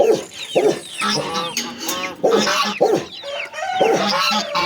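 Chickens peck at sand outdoors and give repeated close, lively clucks and short squawks that overlap from several birds in an irregular, continuous chatter.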